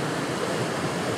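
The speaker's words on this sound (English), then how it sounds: "Waterfall is the backdrop." Steady broadband rush of a waterfall beside a tiny trout creek, a constant even roar filling the background with no breaks or voices.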